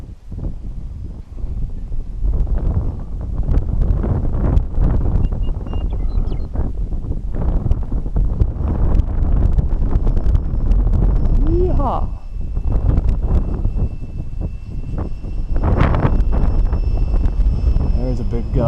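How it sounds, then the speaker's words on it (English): Heavy wind gusts buffet a microphone outdoors at an RC hobby flying field, making a loud, continuous low rumble that swells and dips for the whole stretch. A faint thin whine sits above it at times. "There's a big gust."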